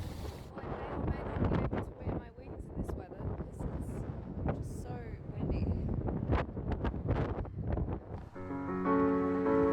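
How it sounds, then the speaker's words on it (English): Gusty wind buffets the microphone in rough bursts throughout at a harbour town, with a steady whine rising briefly at the end. "it is a bit windy."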